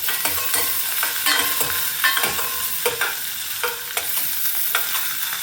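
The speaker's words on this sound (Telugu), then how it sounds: "ఉల్లిపాయ ముక్కలు కొంచెం దూరగా వేగిన తర్వాత క్యాబేజీ కూడా వేసేసుకుని" Sliced onions and cabbage frying in hot oil in a pan with mustard seeds, a steady close sizzle broken by repeated scraping stirs of a spoon, with no talking.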